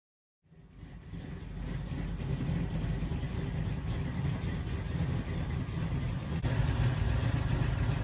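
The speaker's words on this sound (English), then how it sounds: "it was time to fire the engine up and let it warm up to test the fan" A Monte Carlo car engine starts and settles into a steady, rumbling idle as it warms up in a shop, a continuous low drone that grows slightly louder toward the end.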